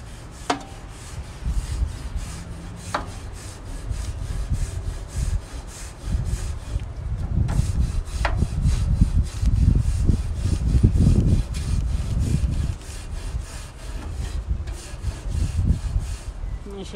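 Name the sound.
scraping a grill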